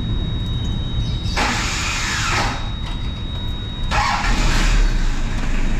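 A Mazda B2200 diesel pickup engine cranking and trying to start, with two loud, harsh broadband bursts of several seconds each and a steady rumble between them, close by.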